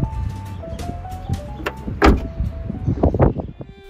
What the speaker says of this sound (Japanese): ドアが結構重いので閉めるときは少し力が必要です。